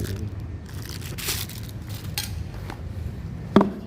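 A plastic Tupperware spoon and fork click and rattle as they are handled, with a few scattered clatters and one sharper knock near the end.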